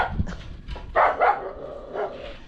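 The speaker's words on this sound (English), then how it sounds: "my dog is very aggressive." A dog barks several times at close range, short yappy barks in an uneven cluster with faint whimpering sounds in between and no talk.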